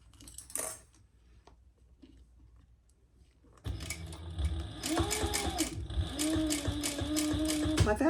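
A sewing machine back-stitches through thick fabric, going slow: a quiet start with a soft clunk, then a steady run of rapid mechanical ticking and whirring from the machine, close and continuous to the end.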